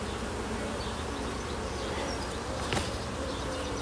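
Honeybees buzzing at an open small hive holding virgin queens, a dense continuous hum close up and even in loudness, with no talk.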